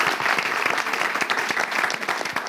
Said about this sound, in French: Merci de vous applaudir, s'il vous plaît.